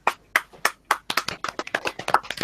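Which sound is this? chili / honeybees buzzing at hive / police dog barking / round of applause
round of applause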